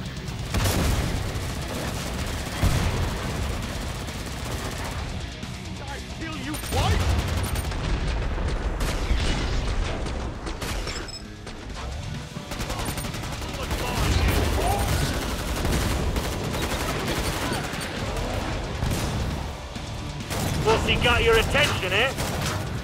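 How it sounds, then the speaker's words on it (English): Gunfire in Killing Floor 2: dense bursts of rapid shots and booming blasts, loud and close, with mechanical clatter between volleys and voices talking over the shooting. "He shoots, he kills!"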